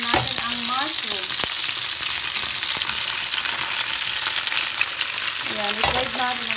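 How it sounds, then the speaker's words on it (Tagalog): Mushrooms frying in olive oil in a pan, a steady loud sizzle throughout, with brief metallic scrapes of stirring near the start and end. "Ayan, i-fry natin ang mushroom."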